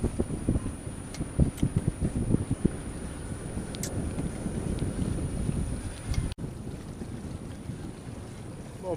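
A sailboat motors along the coast off Sardinia and Corsica in June, pushing straight into a strong headwind; steady engine and water rumble sit under constant gusty wind buffeting, with some sharper splashes early on.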